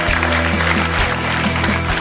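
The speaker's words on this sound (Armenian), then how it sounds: "շատ բարձր ծափերի ներքո" Studio audience clapping on a televised Armenian sports talk show, a steady dense wash of applause filling the whole moment alongside a low musical bed.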